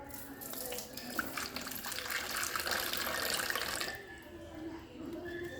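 Water pours from a tap into a container for a few seconds, a steady splashing rush that stops, leaving faint room noise behind.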